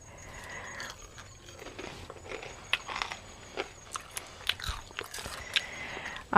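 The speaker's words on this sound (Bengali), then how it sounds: "এটা শুনেই বুঝতে পারছেন কতটা মুচমুচে হয়েছে" Crisp bites and crunchy chewing of fried banana flower fritters eaten with sauce, a run of sharp close crackles over a quiet background with no talk.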